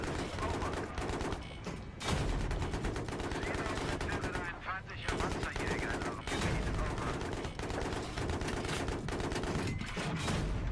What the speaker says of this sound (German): Irgendjemand schießt auf uns von hinten.